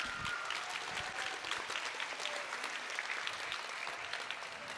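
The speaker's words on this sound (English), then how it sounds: "Let's give them a round of applause." Students are applauded by the crowd at an elementary school end-of-year awards ceremony, a dense, steady wash of clapping from a large room, moderately faint and unbroken from start to finish.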